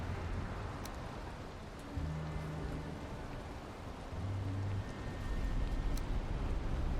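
Steady rain with a low rumbling thunderstorm wash in Valheim weather, a dense continuous hiss of rainfall under deep swells of thunder that grow louder toward the end, with no voices.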